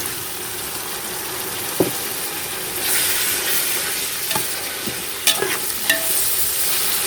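Half a kilo of finely chopped tomatoes fries with softened onions in a pan for home-style village chicken dum biryani, giving a constant close sizzle broken by several sharp spoon knocks and scrapes, with no voices.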